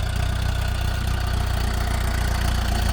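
A tractor engine runs at a steady idle during sugarcane planting in a field, a loud, continuous low chugging throb with an even rapid pulse and no voices.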